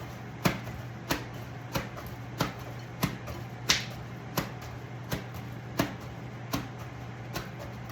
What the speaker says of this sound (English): I'll bring it to my sink where I'm going to be clapping it